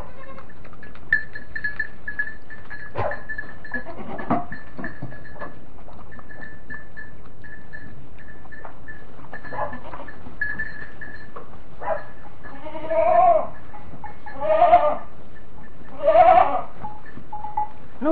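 Goats bleat in a barn: three distinct bleats near the end, each fairly clear and close, over a low steady background hum with faint scattered noises before them.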